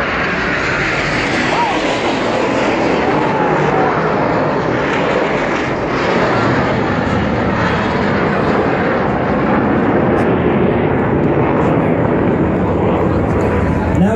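Red Arrows display jets at the Rhyl Air Show, with a loud, continuous roar of jet engines filling the whole stretch, steady and broad, while a commentator talks over it.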